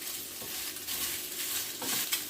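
Soya chunks fry in oil in a pan, giving a steady, moderately quiet sizzle with faint stirring scrapes throughout and no voices.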